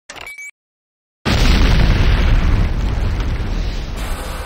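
A structure exploding in the video game C&C Renegade: after a short blip and a moment of silence, a loud, dense blast erupts and rumbles on for several seconds, heavy low end sustained and slowly easing off.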